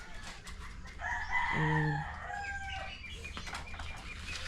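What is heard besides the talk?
chickens clucking and flapping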